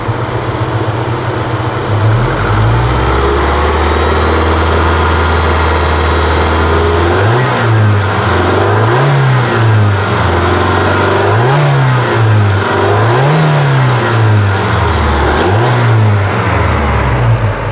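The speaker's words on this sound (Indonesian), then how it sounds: "seperti biasanya kita gas-gas untuk melihat kondisi mesinnya ya." An army-style Opel Blazer's engine idles with a low rumble, then is blipped repeatedly in a rhythmic series of short, loud revs that rise and fall close by.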